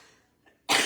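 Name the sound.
throat clearing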